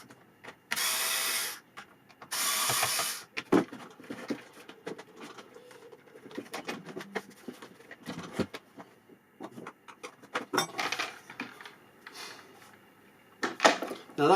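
Three tight cover screws on a McCulloch Mac 335 chainsaw are backed out with a Torx 25 bit from the cover over the spark plug. Two loud, rasping bursts come first, followed by scattered clicks and scrapes of handling.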